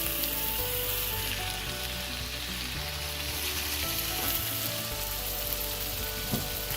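Ginger garlic paste and sliced tomatoes sizzle steadily in a pan for a beef biryani, a continuous close frying hiss with a few faint stirring clicks and no talk.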